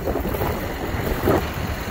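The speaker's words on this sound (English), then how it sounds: "it's really windy out here" Strong wind in an open field buffets the microphone with a steady, rumbling roar and occasional gusts, and no voices can be heard.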